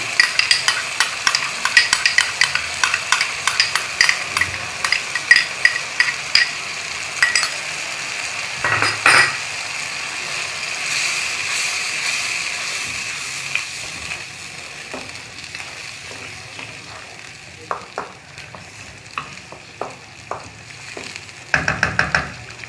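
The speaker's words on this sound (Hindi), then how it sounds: "थोड़ी देर के लिए छोड़ दें ताकि ये मसाला अच्छी तरह से थोड़ा भून जाए" Spiced masala mixed with yogurt sizzles and fries in a pan for dum kabab, with steady crackling and repeated stirring scrapes and clinks of a utensil, close and fairly loud, no voices.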